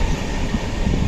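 A moving train, heard from inside a carriage as it nears Dwarka, gives a dense, steady low rumble of wheels and coach noise with no clear breaks.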